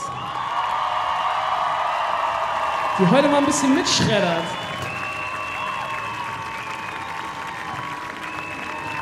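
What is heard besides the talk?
concert crowd applause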